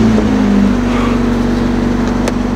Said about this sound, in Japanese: エンジンかけます